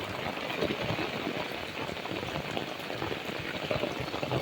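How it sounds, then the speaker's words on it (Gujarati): Heavy rain pours down hard and steady, a dense close roar with no letup and no voices. "તો ભયંકર વરસાદ આજે આવી ગયો મિત્રો"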